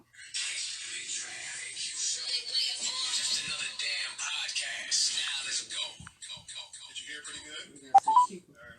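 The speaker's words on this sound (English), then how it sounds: "let me do the phone call" Tones from a phone being dialed run steadily for several seconds, followed by scattered faint noises and a pair of short sharp beeps at the end, with no talk over them.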